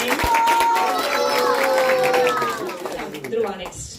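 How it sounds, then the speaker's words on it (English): An audience at a Gita competition claps loudly to encourage children reciting shlokas, with dense, sustained clapping under raised voices that chant and call out together, easing off toward the end. "let's give our big encouragement to them by clapping loudly"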